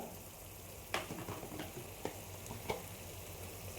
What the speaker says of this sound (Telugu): చూడండి కొబ్బరి కొంచెం ఫ్రై అయ్యింది